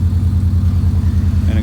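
A Subaru coupe engine with pseudo headers and a full exhaust idles while warming up, giving a loud, close, steady low rumble with a regular pulsing beat.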